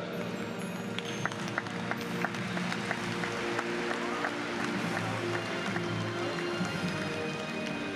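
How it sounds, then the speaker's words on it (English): Audience applause at the opening ceremony of the IFFI Goa 2018 film festival, a steady wash of clapping from a large crowd that holds for the whole stretch, with faint crowd murmur underneath. "a big round of applause for a jury"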